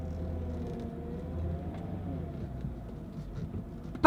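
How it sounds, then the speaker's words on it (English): An aging car's power steering pump groans as the wheel is turned, a steady low engine hum carrying a faint wavering whine, ending in a sudden brief knock. "power steering pump's groaning a little,"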